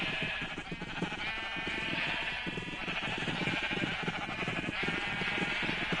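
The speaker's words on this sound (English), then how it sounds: "This is my sheep farm." Sheep on a sheep farm in Minecraft bleat over and over, several overlapping calls forming a steady, dense chorus throughout with no talking.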